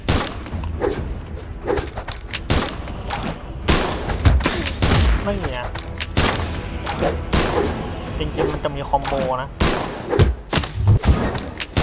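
Rapid gunfire and thumping hits from the fighting game Brawlhalla, a dense burst of shots and impacts packed close together and loud throughout, with a voice talking over the action.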